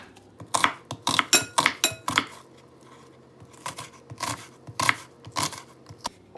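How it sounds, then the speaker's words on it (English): A knife chopping an onion on a board for a chicken and avocado salad, with quick bursts of sharp, close taps in uneven clusters and short pauses, and no talking. "Then I'm going to chop the onion."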